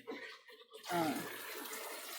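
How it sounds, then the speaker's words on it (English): Water poured into a sample container for archaeological flotation sampling, a brief soft knock followed by a steady, close splashing pour that runs to the end. "add more water to this because I'm going to get a second sample"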